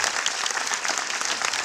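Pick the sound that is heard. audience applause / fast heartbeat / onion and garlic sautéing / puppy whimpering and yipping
audience applause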